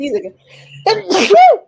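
A single sharp sneeze follows a brief moment of conversation at a Hollywood Studios Disney dining table, close and loud after a quick inhale.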